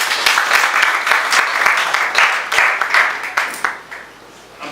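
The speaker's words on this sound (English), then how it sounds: "Please, another round of applause for Carl." Loud applause from a conference audience at a panel on the 2019 general elections, with dense, close clapping that stays strong for several seconds before thinning out near the end.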